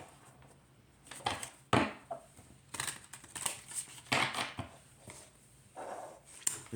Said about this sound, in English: I'll just shuffle really well.